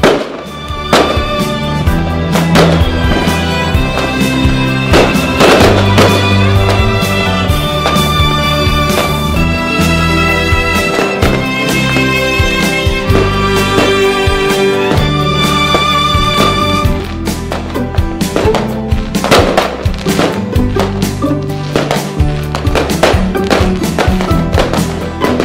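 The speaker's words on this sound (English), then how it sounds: "let's enjoy the fireworks" Fireworks go off in a long run of loud thumps and sharp cracks, with dense ringing tones layered over them throughout.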